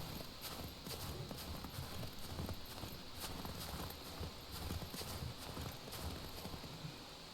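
Footsteps in the open-world survival game SCUM, a steady rhythmic run of thudding steps that sounds almost like hoofbeats, continuous for about seven seconds under a dense, noisy game soundscape.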